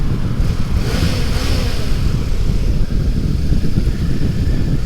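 A 2018 Kawasaki Ninja 400 sport bike with stock baffle drones loudly and steadily close by, its engine buzzing in a thin, high-pitched rev with rushing wind noise throughout, and no talking.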